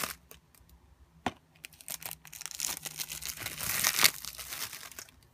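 Shrink wrap is peeled and torn off a video game box, giving close, crackling crinkles and plastic rustling that build to a louder tearing burst, with no talking.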